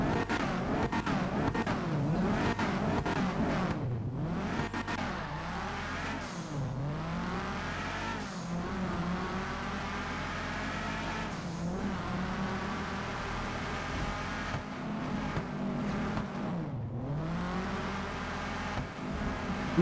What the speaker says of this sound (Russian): вот такой вот, ребята, выхлоп.